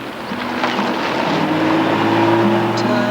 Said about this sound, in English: Now Brabham takes his line for the run into Pub Corner.